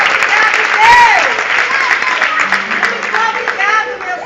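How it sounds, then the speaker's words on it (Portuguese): A church congregation at a Portuguese-language worship service applauds loudly and continuously, with voices calling out above the clapping. "Aplauda o Senhor"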